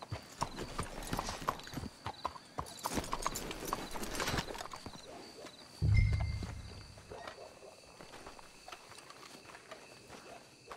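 Horse hooves clip-clop on the ground in Red Dead Redemption 2, a string of quiet, uneven steps that slow and stop, followed by a brief snort or whinny and faint ambient game sounds.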